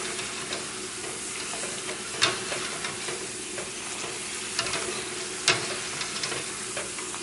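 Thin potato slices frying in hot oil and puffing into pommes soufflées, a steady close sizzle with a few sharper pops and crackles, no voices.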